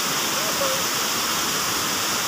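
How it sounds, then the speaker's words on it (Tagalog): Pangyan Falls in Mati City, Davao Oriental, pours as a dense, steady roar of falling water, loud and continuous throughout a short moment. "kini siya nga falls na ni siya gitawag ni Pangyan falls"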